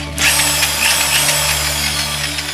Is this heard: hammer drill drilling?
yes